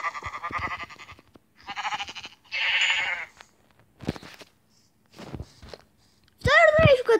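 Sheep in Minecraft let out several short, wavering bleats in separate bursts, with footstep-like thumps between them and one final, louder bleat at the end.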